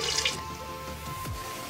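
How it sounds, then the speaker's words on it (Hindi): Water poured from a glass into a pan of lotus stem curry being prepared for gravy, a steady close pouring and splashing stream lasting under two seconds, with no talking. "मिक्स करने के बाद इसमें हमें लास्ट में पानी डालना है"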